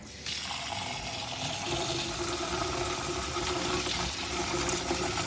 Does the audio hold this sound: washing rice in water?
yes